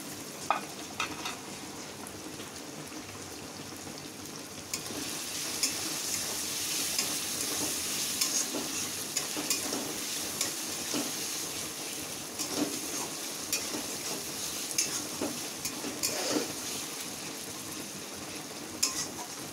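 Garlic paste and ginger paste stir-fry in a pan for a tadka, giving a soft, continuous sizzle with occasional stirring scrapes and clicks, no talking.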